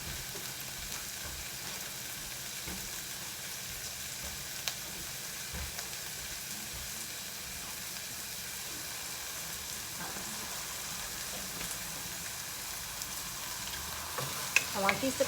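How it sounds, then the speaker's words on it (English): Steady frying sizzle of onions in a pan, a constant crackling hiss with occasional small pops, no talking. "So we have our onions frying."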